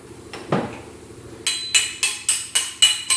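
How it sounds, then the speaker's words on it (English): A hammer taps a metal rocker panel during Ford F250 rust repair: one dull knock, then six sharp ringing strikes in a steady rhythm, close and loud. "We'll flush them out with a hammer."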